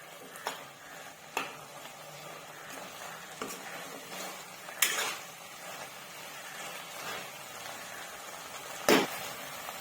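A pan of banana flower and egg stir-fry being stirred, with a low sizzle underneath and a few scattered spoon taps and scrapes against the pan, close by and fairly quiet.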